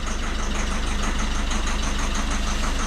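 A Citroën C4 diesel engine idles steadily, a continuous close mechanical rumble with a light knocking rattle throughout and no voices.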